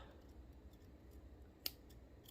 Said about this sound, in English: Go ahead and snip those.